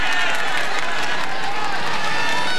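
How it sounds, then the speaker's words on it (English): A large roadside crowd at the 1993 Paris-Roubaix cycling race makes a steady, broad wash of cheering and applause, dense and continuous throughout without distinct individual voices. "A marvellous crowd has turned out for this first vantage point of the 1993 event."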